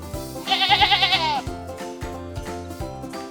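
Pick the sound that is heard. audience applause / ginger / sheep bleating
sheep bleating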